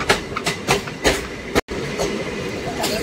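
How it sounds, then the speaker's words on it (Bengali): A MEMU train on the Naihati–Baharampur line pulling into Badkulla station past a standing goods train, with a loud rolling rumble and rhythmic wheel clacks and a sudden brief dropout midway. "এখন আমাদের ট্রেন ঢুকলো বাদকুল্লা স্টেশন"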